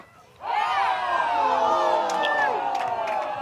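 A softball game crowd bursts into a loud roar of cheers and shouts after a close play at a base. The noise swells suddenly from near quiet and is sustained for several seconds with scattered whoops.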